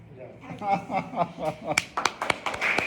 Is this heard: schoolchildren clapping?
yes